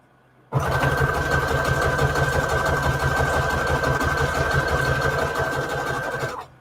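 Sewing machine stitching a red strip for a Christmas junk journal embellishment runs steadily for about six seconds, a loud, close, continuous motor whir with rapid needle chatter that starts abruptly and stops.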